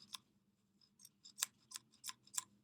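Scissors make a series of crisp, close snips while cutting felt along the top of a cup, several cuts in an uneven rhythm with quiet pauses between them.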